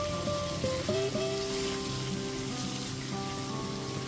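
Fried potatoes and jackfruit with shrimp masala sizzle steadily in a pan as they are stirred, a continuous crackling frying sound with no talking.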